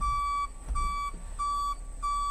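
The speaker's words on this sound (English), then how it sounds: "That beeping you hear is for me putting in reverse" Steady repeating electronic beeps, evenly spaced in a slow rhythm, a vehicle's reverse warning tone sounding over a low engine rumble.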